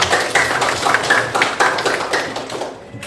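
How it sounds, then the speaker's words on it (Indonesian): Students in a classroom applaud group 5, a close, loud burst of scattered hand claps with a few sharper accented slaps, tapering off toward the end. "Tapi sebelumnya kita beri aplaus dulu kepada kelompok 5."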